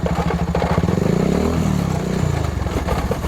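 A Bajaj Pulsar NS 220 motorcycle engine rumbles loud and close, with a continuous throaty drone that swells in revs near the middle and then settles back.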